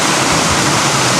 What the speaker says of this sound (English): I just came from up there, followed this waterfall down, a bigger little cascade here.